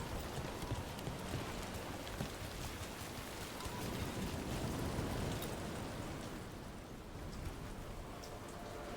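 Steady rain falls in the fantasy game Dragon Age: The Veilguard, a dense, even wash of drops with faint patter and rumble underneath, continuous and unbroken throughout.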